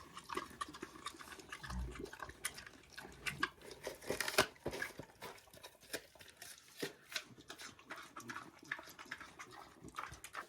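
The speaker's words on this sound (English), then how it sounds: "That's a nice crunch, eh, Billy?" Billy, a homestead animal, munches apples with loud wet crunches and chewing, irregular bites and grinding that come close and fairly busy over several seconds, with a heavier crunch near the middle.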